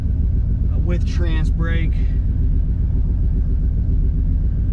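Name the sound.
turbo Dodge Dakota RT truck driving down the street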